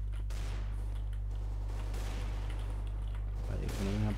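Counter-Strike: Global Offensive gunfire crackles in repeated bursts and single shots from a distance over a steady low game hum, with a short burst of other game sound near the end.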